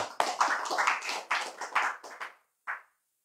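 Clapping from a small audience at a religious talk, a short run of a few distinct bursts of hands that thins out, with one last isolated clap after a brief silence.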